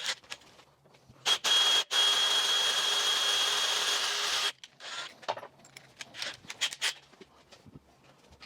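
An electric drill bores with a drill bit into timpani parts during a rebuild and assembly: one loud, steady whirring burst of several seconds, cut off briefly near the start, then followed by quieter clicks and handling noises.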